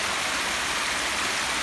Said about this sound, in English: Going this way to a double set of waterfalls right here.